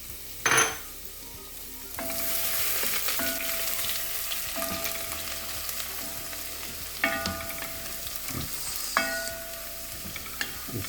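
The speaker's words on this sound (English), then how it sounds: "Chopped garlic. You have to use enough garlic actually, quite a lot. Saute it for about 30-45 seconds." Chopped garlic sautés in a pan for pasta, a steady broadband sizzle with occasional utensil clinks and stirring scrapes, close and continuous throughout.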